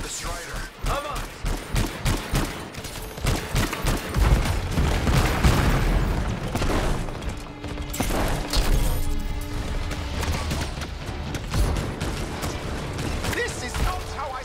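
Enemy gunfire in Anthem rattles in rapid bursts of shots, then gives way to heavy crashing impacts and a booming low rumble, with voices shouting over the combat.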